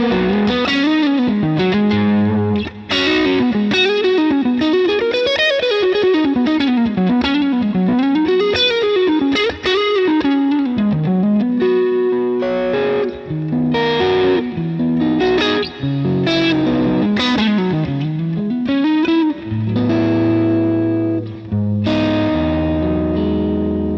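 Distorted electric guitar runs through an amp-simulator plugin modelling a Matchless amp, playing loud, sustained riffs and bending melodic lines with a thick, saturated tone and some chorus and reverb, with no talking over it.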